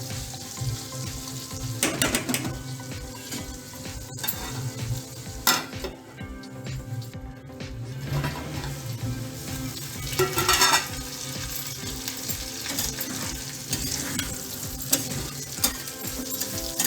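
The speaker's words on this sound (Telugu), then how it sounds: "ఇలాగా ఒక 5 minutes వరకు ఫ్రై చేసుకున్నాక లాస్ట్లో కారపొడి వేసుకుందాం" Bitter gourd fries in a pan with a steady close sizzle, while a spoon stirs and scrapes it in irregular knocks throughout.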